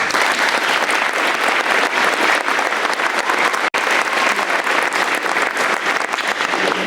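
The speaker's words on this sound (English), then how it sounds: "let's give them a round of applause" Audience applause fills a school awards night hall, steady and loud throughout with dense overlapping claps and no break except one brief dropout.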